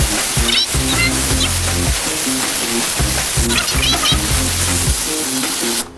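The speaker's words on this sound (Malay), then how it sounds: "So kita pakai dengan steamer." An ANTIRAIN steam cleaner works on a car's interior with a loud, continuous hiss of steam that stays steady for the whole stretch, while people talk over it.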